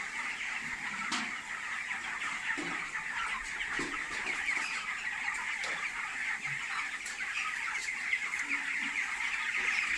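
A crowded poultry shed full of chickens gives off a constant, dense chorus of clucking and murmuring, with scattered louder calls rising out of the steady flock noise.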